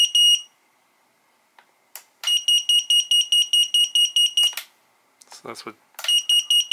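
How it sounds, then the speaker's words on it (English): Loud, high-pitched electronic beeping from a VIFLY Finder lost-drone alarm in rapid regular pulses, stopping and restarting, with a brief spoken word and some rustling between bursts. "that's what the micro beeper sounds like"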